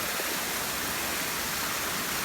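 A waterfall in a subtropical rainforest runs through a hollow in the rock, giving a steady, full hiss of rushing water that holds constant throughout with no voices.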